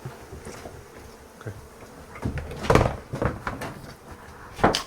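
A massive honeybee colony buzzing, a low swarming hum that swells with a few close bursts and scattered knocks and bumps.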